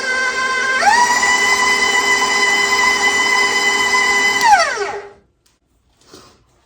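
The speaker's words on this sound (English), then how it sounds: "we're just going to beat it a little bit longer till it's smooth and creamy" An electric mixer beating spiced carrot cake cupcake batter in a bowl: a steady motor whine holds for about four seconds, then winds down and stops, leaving near silence.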